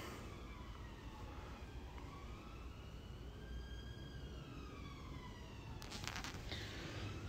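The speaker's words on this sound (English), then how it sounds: "There's always sirens in the big city." Distant sirens wail in long rising and falling sweeps over faint city hum, quiet and far off, with a brief clatter near the end.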